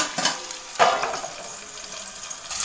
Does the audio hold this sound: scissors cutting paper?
no